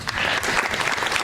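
Audience applause at the Miss Excellence Oise 2019 pageant gala, a dense, steady burst of clapping from a crowd that holds at an even level for the whole moment.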